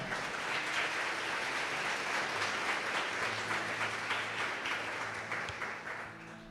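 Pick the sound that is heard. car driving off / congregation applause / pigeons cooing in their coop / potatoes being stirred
congregation applause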